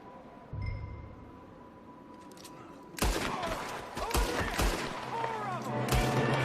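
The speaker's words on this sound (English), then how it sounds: "There's another one shooting." Gunfire rings out in a Red Dead Redemption 2 western shootout, with sharp cracks and rapid volleys coming in bursts over game ambience and faint voices, growing denser after the first few seconds.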